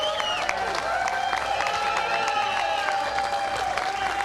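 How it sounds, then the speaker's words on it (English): A crowd applauds at the NHRA drag racing world champions ceremony as Top Fuel champion Doug Kalitta receives his medallion. The clapping is steady and sustained, with tonal music or announcer sound layered over it. "And you can hear the applause."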